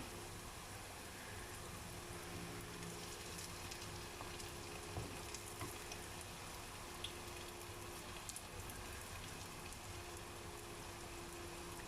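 Sweet potato donuts frying in hot oil, a faint, continuous sizzle and crackle with occasional pops, steady throughout without voices.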